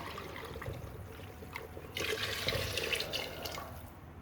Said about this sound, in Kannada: ಸ್ವಲ್ಪ ನೀರು ಆ್ಯಡ್ ಮಾಡಿ.